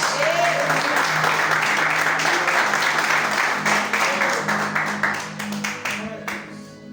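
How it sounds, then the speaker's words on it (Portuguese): A church congregation applauds steadily and loudly throughout, with the clapping thinning and fading toward the end while voices and a low tone continue underneath. "Pode se assentar aplaudindo o nome de Jesus"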